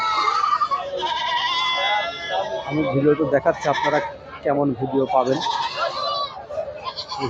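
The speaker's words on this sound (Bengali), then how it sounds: "খাসি ছাগলগুলো যারা কিনবেন খাসি ছাগল" Castrated Black Bengal goats bleat repeatedly at a busy outdoor goat market, their wavering cries overlapping with someone talking over them.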